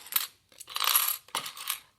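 Coins drop and jingle onto a surface in three separate bursts of bright metallic clinking, each a cluster of quick rattles with short pauses between.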